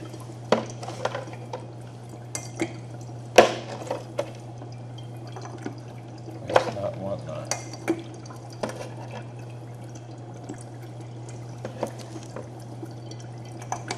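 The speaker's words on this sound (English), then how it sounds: "Okay, so that's bubbling up pretty good." Dry ice bubbling in warm water, giving a soft steady fizz with scattered drips and small splashes, plus occasional louder knocks, close by over a constant low hum.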